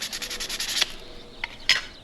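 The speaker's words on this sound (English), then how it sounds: "Just something abrasive enough to scuff up the base a little bit." Abrasive scuffing the base of a Matchbox car, a quick series of rapid rubbing strokes up close, then a pause with a couple of short scrapes after it.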